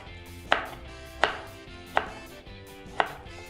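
A knife thinly slices raw banana on a board, four sharp, evenly spaced chops standing out close and clear over a quiet background, with no speech.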